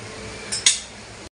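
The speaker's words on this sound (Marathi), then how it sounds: "आता आपण झाकण मारून ठेवूया" A metal lid is set onto a cooking pan, two quick metallic clinks in close succession, the second louder, up close over a faint background hum.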